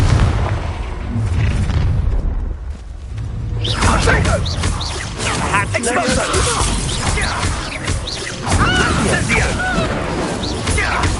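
Confringo fire-blast spell in Hogwarts Legacy going off in loud booming bursts with whooshing swishes, following a quieter lull, set in busy combat with voices speaking amid the noise.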